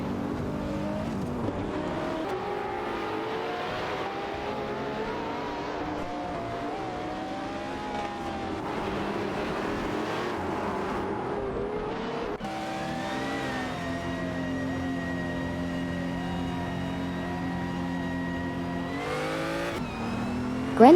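Racing-game engines from a Nissan GT-R Nismo and an Aston Martin Vantage AMR, a continuous whining drone that climbs and shifts pitch through gear changes, steady and loud with no voices over it.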